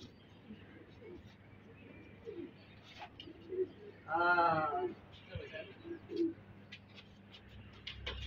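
A magpie pouter pigeon coos in a brief burst amid light outdoor background noise at a pigeon loft, with faint calls and soft rustles around it.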